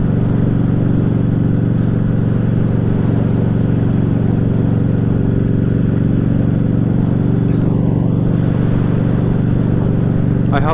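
Harley Davidson Street 500 motorcycle ridden at night, heard from the rider's position as a loud continuous low engine rumble mixed with wind noise, steady throughout with faint traffic sounds passing.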